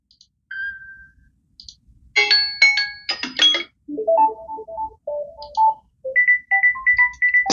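Tablet ringtones preview from the sound settings menu, one after another: clear electronic chimes, bell-like tones and rapid melodic beeps, played alone and close with short gaps between them.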